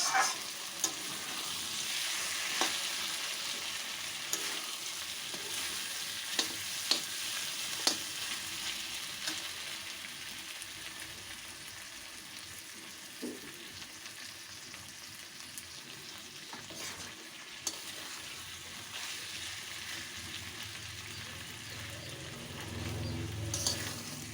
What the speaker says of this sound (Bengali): এটা লো টু মিডিয়ামে রেখে গ্যাসের ফ্লেমটা আমি এটাকে ভালো করে কষিয়ে নেব।